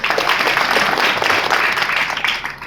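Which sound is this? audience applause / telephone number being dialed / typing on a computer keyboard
audience applause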